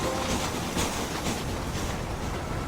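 A train rolling along the tracks in the Western video game Red Dead Redemption, a dense, steady rumbling roar with faint clatter, loud and continuous throughout with no voices.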